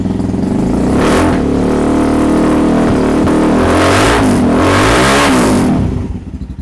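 A Lawnsun GP 200cc motorcycle with an aftermarket exhaust starts and revs hard, close and loud, in several rising bursts before dropping back and cutting off at the end.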